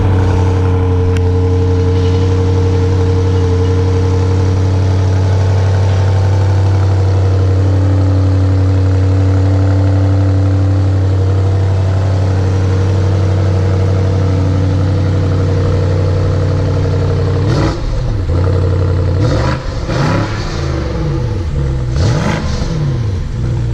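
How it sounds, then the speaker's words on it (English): A 2018 BMW M550i xDrive exhaust idling with a deep steady rumble, then blipped through several sharp revs near the end, loud and close with no talking. "Hope you guys like the little bit of an exhaust clip."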